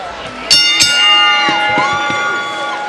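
A boxing arena crowd roaring and cheering in a frenzy after a women's title fight, with a broad, steady wall of noise, a bell clanging briefly near the start and a voice speaking above it.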